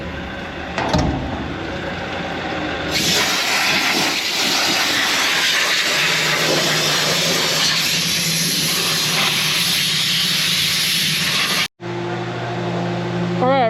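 A parts washer runs with small metal parts tumbling inside, a loud steady hiss and spray with rattling underneath, cutting off abruptly near the end and resuming briefly.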